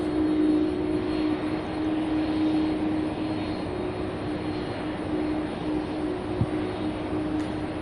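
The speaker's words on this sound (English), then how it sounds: "5-year-old Boeing 737-800" A five-year-old Boeing 737-800 at Louisville's SDF airport makes a loud, steady jet engine roar that holds throughout, with no speech over it.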